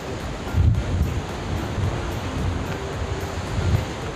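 Strong wind blows steadily outdoors, with a constant rushing roar and low gusty rumbles that swell and fade like surf.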